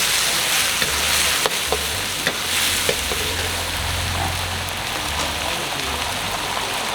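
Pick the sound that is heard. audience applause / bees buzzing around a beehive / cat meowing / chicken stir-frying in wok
chicken stir-frying in wok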